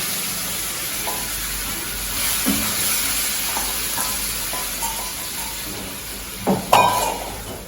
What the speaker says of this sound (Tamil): இப்போ இதில் வதங்கிடுச்சு இதில் கொஞ்சம் அந்த பருப்பை ஊற்றிடுவோம்